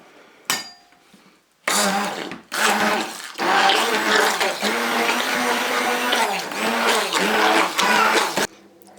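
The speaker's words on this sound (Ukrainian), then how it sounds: "знову пробиваю блендером" A blender whirs in loud bursts through cream in a pot: a brief pulse, a short run, then a long continuous whir with slight dips before it cuts off.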